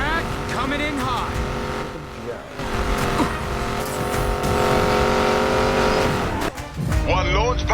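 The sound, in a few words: race car accelerating at full throttle in Need For Speed Payback video game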